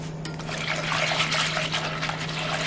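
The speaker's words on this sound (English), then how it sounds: "Add in your plant-based milk." Plant-based milk poured into mashed bananas in a pot, a steady close liquid stream splashing and gurgling for a few seconds, no talking.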